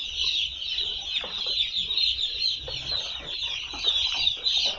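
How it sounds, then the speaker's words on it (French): A dense, continuous high-pitched chorus of more than 3000 chicks peeping together at a poultry farm in Côte d'Ivoire, loud and close with no pauses and no talking. "Plus de 3000 poussins au même endroit."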